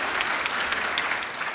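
Audience applause at a kirtan program, a brief, steady patter of many hands clapping together at moderate distance.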